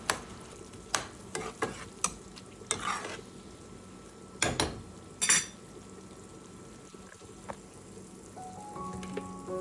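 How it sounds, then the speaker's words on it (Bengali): Sliced onion softening in a pan is stirred with a spatula in a series of sharp scraping strokes over a quiet, steady sizzle, heard up close with no talking. "পেঁয়াজটা দিয়ে নাড়াচাড়া করে আমি ঢেকে রেখে দেবো"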